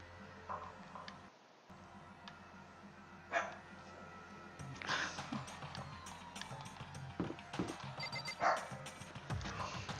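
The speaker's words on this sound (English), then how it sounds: "I might have to open the door for the dog if he's gonna keep barking like that" A dog barks in the background of a room, several sharp, irregular barks coming through faint and somewhat distant over low background noise, with no one talking.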